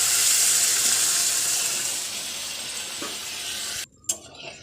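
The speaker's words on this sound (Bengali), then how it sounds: "আমরা এখানে একটু জল নিয়ে নেব।" Water poured into a simmering chicken curry makes a steady hissing pour with a faint sizzle and a clink near the end, close by and alone.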